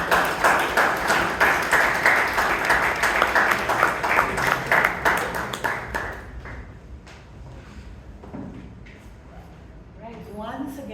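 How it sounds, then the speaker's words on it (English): Applause at a Toastmasters club meeting in Bangalore: a dense burst of clapping from a small group that fades out after about six seconds, leaving scattered claps and room noise. "once again, a big round of applause for all the role takers and speakers"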